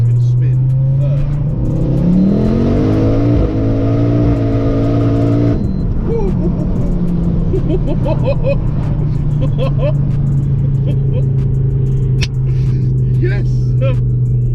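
A 500hp Ford Focus RS Mk2 accelerates hard in third gear, its loud engine note rising steadily and close, with a wheel-spin surge and then a sustained high drone as people talk over it.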